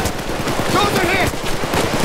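Rapid bursts of automatic gunfire rattle through a PayDay 2 police shootout, dense and loud, with overlapping shots and a voice shouting amid the chaos.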